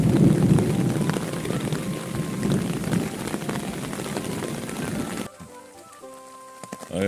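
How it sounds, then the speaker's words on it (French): Steady rain and storm noise at a forest bivouac campsite, broadband and fairly loud, continuing for about five seconds before cutting away to a quieter stretch with faint tones. "Ils ont eu peur de l'orage."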